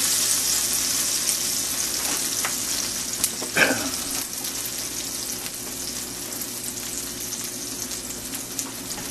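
Onions fry steadily in a 12-inch skillet over slightly above medium heat, giving a continuous broadband sizzle with a brief scrape of stirring partway through, close and alone.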